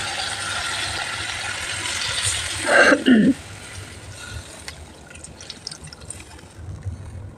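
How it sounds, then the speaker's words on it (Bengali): Broth is poured into fish curry cooking in a pan, a brief liquid splash and gurgle around the middle against a constant background hiss, then quieter clinks and stirring. "এখন দিয়ে দেবো ভালো করে ঝোল"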